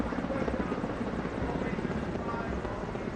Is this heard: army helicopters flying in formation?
yes